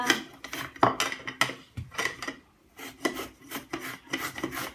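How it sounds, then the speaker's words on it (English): A whole raw potato rubbed against a grater for hash browns, repeated rasping scrapes in an uneven rhythm with a short pause midway, close and fairly quiet with no talking. "you make sure when you grate this potato that you don't only grate a little"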